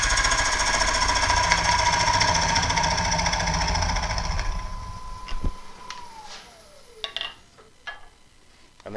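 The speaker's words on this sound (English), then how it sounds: "It's quite hard in the bottom here, which is why the gouge is twitching a little bit." A gouge cuts the hard bottom of a wooden bowl on a lathe, giving a steady, close, buzzing drone with a humming tone that later glides down as the lathe winds down, leaving a few scattered knocks.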